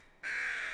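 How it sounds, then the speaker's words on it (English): A single crow caw from the horror video game Ju-On The Grudge, a harsh, sustained call that starts abruptly and holds steady, fairly loud against a quiet background. "Shut up, birds."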